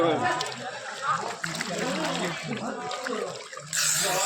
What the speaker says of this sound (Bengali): আমার ভাইরা গরম জলে স্নান করছে